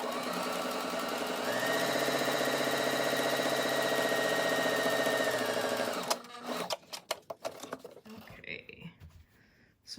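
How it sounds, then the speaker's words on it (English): A sewing machine runs steadily, stitching a quarter-inch seam in fabric for a Jack Skellington face mask for about six seconds, then stops and leaves scattered handling clicks and rustles. "And then we're going to take it to the sewing machine."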